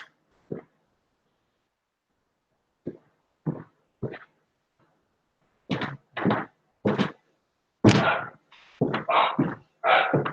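A dog barks repeatedly in short separate bursts. The barks are sparse at first and then come faster and closer together, loud against silence.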